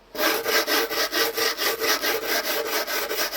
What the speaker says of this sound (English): I'm just going to lightly sand that, and that's already starting to smooth out a little bit